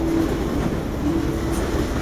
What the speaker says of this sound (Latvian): vilciens brauc